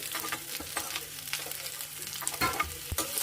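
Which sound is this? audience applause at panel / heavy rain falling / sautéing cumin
sautéing cumin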